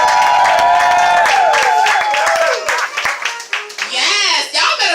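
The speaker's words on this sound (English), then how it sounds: "hands in the air, west side, south side, kind of applause" An audience at a poetry open mic show claps and cheers loudly, a dense burst of applause with whoops and voices mixed in, thinning into scattered claps and crowd chatter.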